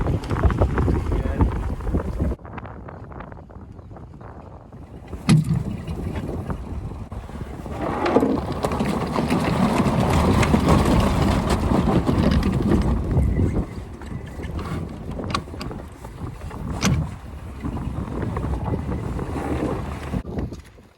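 An 18ft sailboat with a centerboard sailing close to the wind, gusty wind buffeting and rushing water swelling and fading, with heavy rumbling wind noise on the microphone.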